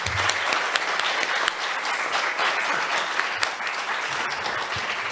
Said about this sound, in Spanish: Un aplauso para Chance.